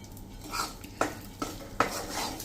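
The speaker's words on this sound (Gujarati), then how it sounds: "એને પણ આપણે 1 મિનિટ આ રીતે લોટ સાથે હલાવી લેશું" Roasted flour mixed with cashew, almond and coconut powder is stirred in a pan for sukhdi, with close soft scraping and a few sharp clicks of the spoon against the metal.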